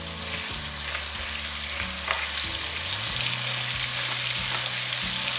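Continuous sizzling and crackling of chicken frying in a pan on medium flame, steady and fairly loud, with occasional stirring clatter and no talking.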